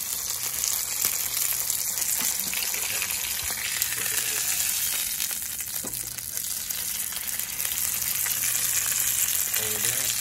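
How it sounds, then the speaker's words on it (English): Bonita tuna seared in a hot pan, a loud continuous sizzle and crackle filling the whole stretch with faint stirring scrapes. "roll it, sear it all the way around"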